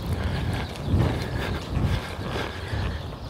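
A ridden horse works over poles during a pole-jumping schooling session, its hooves clip-clopping in a steady rhythm of close, distinct beat clusters, with no voices.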